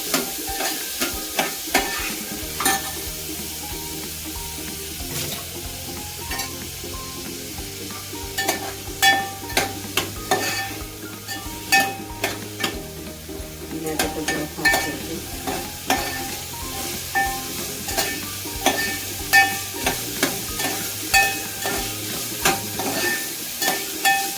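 Radish pieces sizzle steadily in a hot spice tempering for a Maharashtrian radish amti while a utensil stirs them with repeated scraping clinks, a continuous close frying hiss with no talk.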